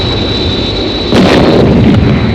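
Ground-to-air missiles fired at an aircraft in a radio drama produce a loud, sustained roar with a sudden burst of explosive noise midway, over a constant engine-like drone and a thin steady tone.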